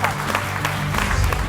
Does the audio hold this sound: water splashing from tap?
no